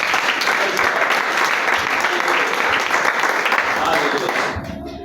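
A church congregation applauds in a steady, dense wash of clapping that fills the space, with some voices mixed in, before tapering off near the end.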